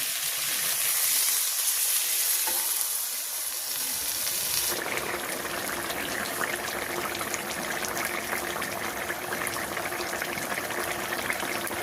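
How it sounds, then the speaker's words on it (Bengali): Fish curry frying and sizzling in a pan in a village kitchen as water is poured in, a steady hiss that swells into a louder, busier bubbling after the water goes in, close and continuous with no talk. "এখন আমি জল দিয়ে দিচ্ছি, সুন্দর করে কষাই নিচ্ছি।"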